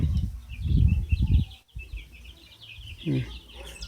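Chickens and chicks cluck and chirp in repeated soft bursts on a farm, with someone talking nearby and a rustling background.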